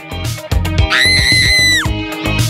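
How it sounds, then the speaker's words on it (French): Children let out a loud, sustained high-pitched scream of terror at a Halloween prank, lasting about a second, with short bursts of voices and noise around it. "on attend avec plaisir les cris de terreur"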